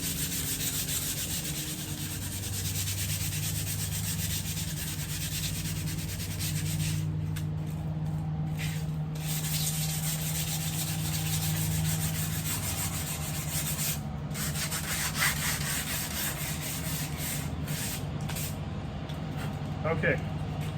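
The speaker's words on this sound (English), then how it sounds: "Give it a light sanding." Light hand sanding across an oil-stained painted panel before repainting, a steady continuous rubbing scrape with brief pauses, close and fairly loud over a low background hum.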